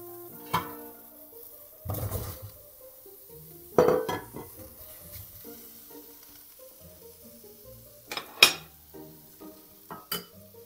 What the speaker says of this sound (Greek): και βάζουμε μέσα τα μανιτάρια με τα κρεμμύδια